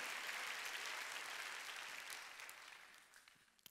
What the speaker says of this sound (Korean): 박수로 하나님께 영광을 드려요.